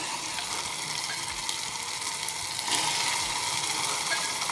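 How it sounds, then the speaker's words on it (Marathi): Ground masala hitting hot oil, with a steady close sizzle and crackle of frying that swells louder partway through, with no talk. "आता हे वाटलेला मसाला मी टाकून घेते। मस्त तेलामध्ये तळून घ्यायचा"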